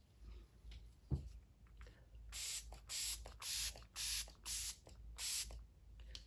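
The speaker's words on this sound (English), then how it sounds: "This is the Laneige Cream Skin Mist." Laneige Cream Skin Mist facial mist is sprayed in six or seven short, even hissing bursts in a steady rhythm, close and clear, after a faint tap.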